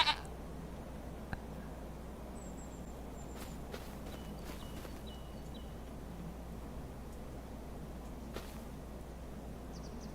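Goats in the farming game Farming Simulator 25 give a few faint, scattered bleats and soft hoof steps over a steady low ambient hum, with no talking.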